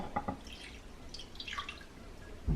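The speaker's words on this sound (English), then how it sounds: "we're going to add some of this broth" Broth is poured over baked turkey wings in a pan, giving soft splashing drips in short bursts, close and fairly quiet, with no talking.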